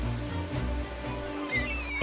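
Waterfall on a northern salmon river, heard as a steady, dense rush of falling water with continuous low roar and sloshing, close and unbroken throughout.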